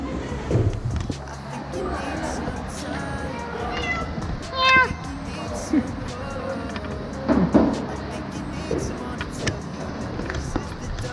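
Stray cats meowing outdoors, several short, high mews scattered across the span, some close and clear, with street traffic and people talking underneath.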